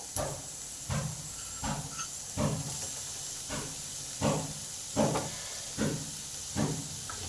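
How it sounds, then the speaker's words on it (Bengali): Onion and potato fry in a pan under a steady sizzling hiss, with a spatula knocking and scraping at a regular pace of roughly one stroke per second, close and moderately quiet. "পেঁয়াজটাকে হাফ ভেজে নেব একটা আলু কেটে রেখেছি এই আলুটাকেও দিয়ে দিলাম"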